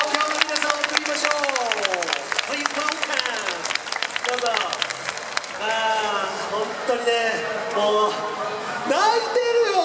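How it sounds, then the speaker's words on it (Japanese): A festival crowd in an open city square in Shinjuku's Kabukicho applauds Formula 1 driver Esteban Ocon, a dense steady patter of many hands for several seconds, with voices speaking over and after the clapping. "大きな拍手を。"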